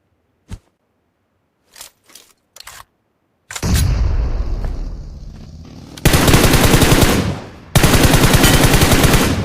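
Gunfire in the mobile battle royale game PUBG Mobile: a few sharp single shots, then a loud sustained burst of automatic fire that pauses briefly and resumes, close and intense with no talking.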